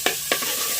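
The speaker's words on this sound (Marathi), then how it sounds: "तेल तापत ठेवलाय. लसूण मिरची पेस्ट, मिरची पण याच्यात घेतली." Garlic and chili paste dropped into hot oil in a pan over a wood-fired clay stove, two quick bursts of sizzle followed by a soft, steady frying hiss, close by.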